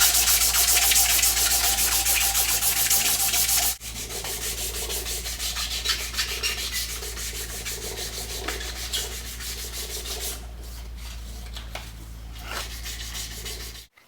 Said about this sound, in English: Cleaned up the handle scales around the tang, and also roughly rounded the corners a little bit so it's a nicer grip.